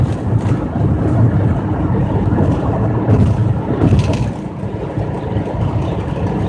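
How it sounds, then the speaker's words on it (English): A large luxury motorhome rolls past on the road as a deep, steady engine and tire rumble. Heavy wind buffeting on the microphone runs through it, and the rumble swells slightly midway. "There goes that fancy schmancy motorhome."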